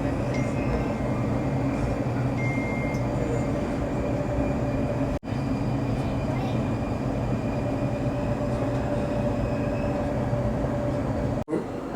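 A Riyadh metro train runs through an underground tunnel, its steady loud rumble and whine filling the space, with two brief dropouts as it rolls along.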